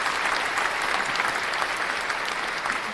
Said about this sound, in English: Let's give it a round of applause for all of our beautiful